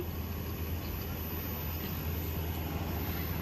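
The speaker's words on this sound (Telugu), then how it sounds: "ఫ్లైట్ కూడా పోతుంది పైన, ఇక్కడ వస్తుంది" An airplane passes overhead near an office beside a forest, a faint steady distant engine roar with broadband rumble and no talking.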